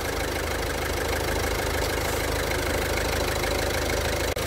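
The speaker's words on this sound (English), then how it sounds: "I want to rev this engine to 2000 RPM." A car engine idles steadily during a mass airflow sensor test, giving an even, continuous rumble with a faint knocking rhythm. It stays close and constant, with one brief click near the end.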